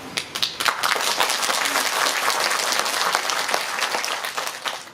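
Audience members at a Pocheon mayoral candidate policy debate break into applause, a dense burst of clapping that holds steady, then tapers off at the end.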